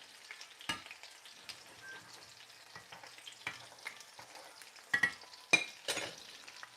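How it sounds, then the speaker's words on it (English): Chicken for chicken parmesan frying in oil in a pan, a light, uneven sizzle with occasional louder crackles and pops, fairly close and with no talk. "It's not sizzling how I want it to."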